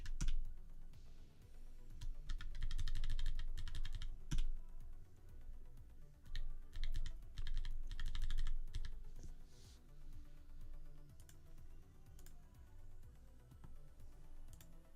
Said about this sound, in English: I'm also getting used to my split keyboard again